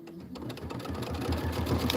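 A sewing machine stitching a decorative appliqué outline on a quilt block runs in a fast, steady mechanical chatter that grows gradually louder, close up, with no talk over it.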